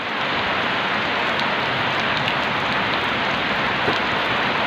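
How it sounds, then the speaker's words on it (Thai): Steady rain falls outdoors in a continuous dense hiss, loud and even throughout, with no talking. "พอดีฝนตกนะครับผม"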